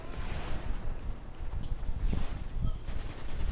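Sniper gunfire in a video game, a few dull booming shots over a steady rumbling backdrop, loud and close, with no clear talk.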